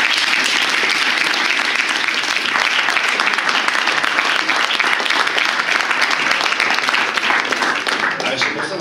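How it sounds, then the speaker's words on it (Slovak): Audience at a talk with a web designer gives the guests a long, loud round of applause, dense continuous clapping from many hands that stays strong and tapers slightly at the very end. "ešte raz jeden veľký potlesk pre našich hostí"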